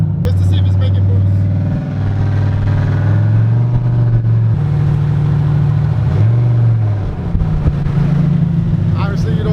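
A turbocharged car accelerates hard on a small hit of boost, its engine note climbing through rising pitch steps from inside the cabin, loud and continuous.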